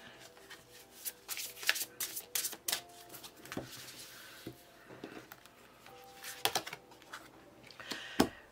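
Tarot cards shuffled and laid out on a table, a run of quick papery slaps and riffles with soft pauses between, close and fairly quiet, no talking.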